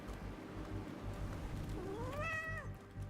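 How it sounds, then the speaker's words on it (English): Cat meowing in a video game, a single rising then falling meow late in the clip over a steady low background hum, fairly quiet. "we're talking to this other little cat"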